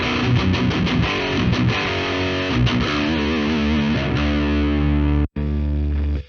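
A loud, heavily distorted electric guitar plays chugging chords and riffs through a FLAMMA preamp with a Fender 65 Twin Reverb 2x12 cabinet impulse, cutting off briefly near the end before one last sustained chord.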